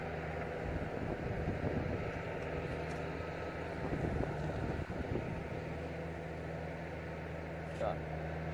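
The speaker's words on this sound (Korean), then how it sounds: "아이고 바람 분다 이거" Wind blows across an outdoor garden, a steady low rumble with gusty buffeting against the microphone throughout, while someone speaks over it.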